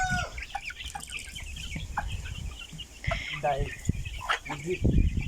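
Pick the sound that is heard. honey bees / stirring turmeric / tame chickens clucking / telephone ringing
tame chickens clucking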